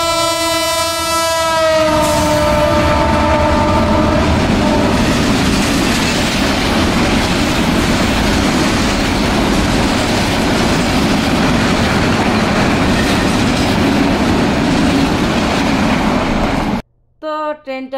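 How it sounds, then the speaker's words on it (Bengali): Train passing close along a railway line, opening with a loud blaring horn, then a sustained heavy roar and rattle of wagons that cuts off near the end. "তো ট্রেনটা চলেই গেল"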